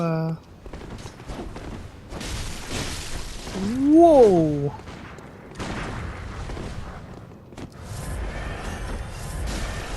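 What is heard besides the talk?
gunshot in Bloodborne video game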